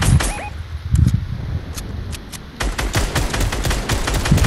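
Rapid bursts of gunfire in the Fortnite video game, loud repeated shots firing in quick clusters with short pauses between them and no voices.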